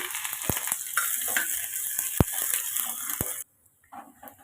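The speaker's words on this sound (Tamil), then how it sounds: "கடுகு பொரிஞ்சதும் கட் பண்ண வெங்காயத்தையும் சேர்த்துக்கோங்க." Steady hiss and crackle of onions sizzling in hot oil after mustard seeds, with a few sharp pops and stirring clicks, stopping abruptly near the end.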